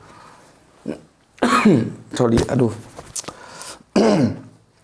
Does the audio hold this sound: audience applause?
no